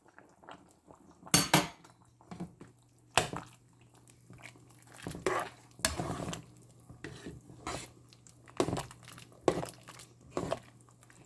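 Cauliflower and celery go into a vegetable soup pot in a home kitchen, producing a series of separate clattering knocks and rustles against cookware, irregularly spaced and fairly close.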